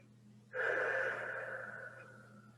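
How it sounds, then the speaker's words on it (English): One long, deep breath during a Pilates mat class, rising suddenly half a second in and trailing off slowly over a faint steady hum, close and alone. "Couple deep breaths in and out here."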